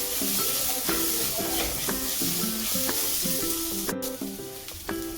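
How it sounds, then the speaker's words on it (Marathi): Ginger garlic paste sautés in a pan for dhaba-style rajma masala, a loud continuous sizzle and hiss with repeated scraping stirs, no one speaking. "आता आलं लसणाची पेस्ट व्यवस्थित परतून घेऊ लसणाची पेस्ट."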